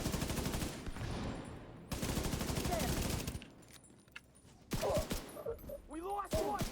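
Loud sustained bursts of G36 assault rifle fire in a video game, two long rapid volleys, then a quieter gap and further sharp shots with a voice speaking over the last part.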